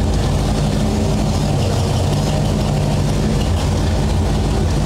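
A 1964 Ford F100 pickup running in reverse with its wheels spinning, a loud, steady low engine drone and broadband roar that stays constant throughout, up close with no talking.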